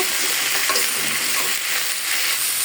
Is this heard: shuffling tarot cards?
no